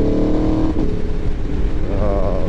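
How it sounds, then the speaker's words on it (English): An Aprilia 1100 Factory motorcycle with a full titanium Akrapovic exhaust revs loud and close, its deep engine note rising and then dropping off-throttle with crackling pops and bassy burble. "This thing's got some gnarly off-throttle pops."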